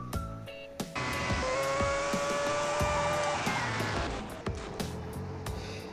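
Engine of a Formula 1 car in the Car Parking video game revs hard and whines while the car fishtails and slides, with tire squeal over a steady high engine drone and sharp intermittent clicks.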